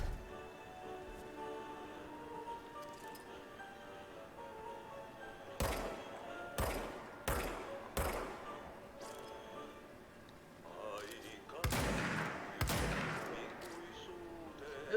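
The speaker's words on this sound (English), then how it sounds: "is kind of cool to watch the gunfire" Sharp bursts of gunfire in the PS4 game The Only Control I Have crack out in irregular clusters, a few single shots then tighter volleys, loud against a steady hum of game background noise.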